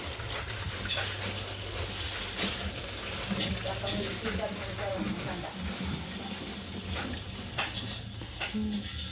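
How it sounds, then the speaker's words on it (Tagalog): Running water splashes steadily as tilapia fish is washed under a tap, a continuous close gushing with handling sounds, while someone talks over it. "Hugasan na natin yung tilapia at gagataan natin para sa pananghalian."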